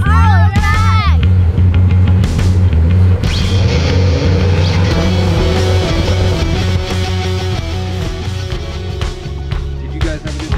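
A car on a track at a family fun outing: a loud, steady engine drone with revving, close and continuous throughout, under voices and cheerful chatter.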